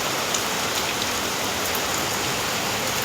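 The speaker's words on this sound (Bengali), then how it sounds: "প্রচণ্ড জোরে বৃষ্টি পড়ছে বাইরে" Heavy rain pours down outside, a dense, loud, unbroken hiss of drops on surfaces that fills the whole stretch with no talking.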